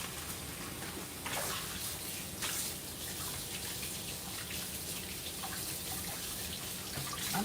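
Food is rinsed in water to wash out sand, with faint splashing, dripping and sloshing that carry on softly throughout and no talking.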